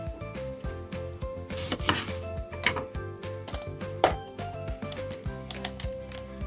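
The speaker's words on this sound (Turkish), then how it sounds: "Limonumu keseceğim ve suyunu sıkacağım." A lemon being cut on a board and its juice squeezed while making a sauce in a home kitchen, with several close knife taps and clicks amid a busy background of kitchen clatter.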